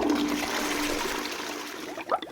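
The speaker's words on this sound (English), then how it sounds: "let's go for the final flush" A toilet flushing in a home bathroom, with a steady rush of water draining for about two seconds before a brief splash and gurgle near the end, heard close and alone.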